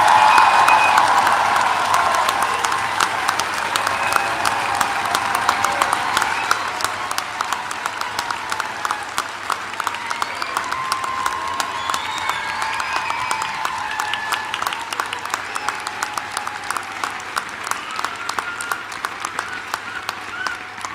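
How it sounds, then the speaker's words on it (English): Sustained audience applause at a university graduation ceremony, a dense steady clapping from a large crowd that swells loud at the start and gradually thins while continuing throughout. "let's raise the roof with a final round of applause to congratulate our graduates"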